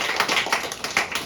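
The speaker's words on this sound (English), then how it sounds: "Clap it up for your next player, Nate, everybody." An audience claps for a contestant at a live comedy game show in Boston, a brief burst of steady, fairly close applause with no talking over it.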